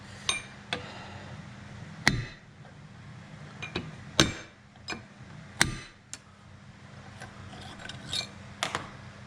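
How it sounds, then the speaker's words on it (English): A hammer taps a drill bit used as a center punch during a Jaguar MKII reassembly, giving about a dozen sharp, irregular metallic strikes of varying force over a low steady hum. "I'm going to use the drill bit as a center punch."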